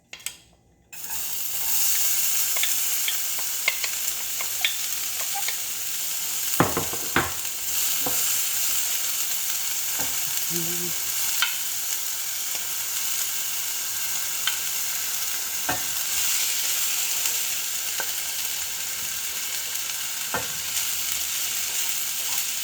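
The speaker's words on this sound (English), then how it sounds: "I'm gonna fry this up with some veggies actually." Quinoa and vegetables frying hard in oil in a pan over high heat, a steady close sizzle running throughout with occasional clicks and scrapes of stirring.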